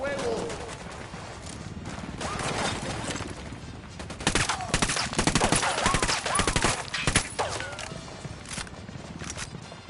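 Dense gunfire in the video game Ghost Recon Wildlands: a rapid, loud fusillade of overlapping rifle and machine-gun shots that grows heavier midway and keeps going, with voices talking over parts of it.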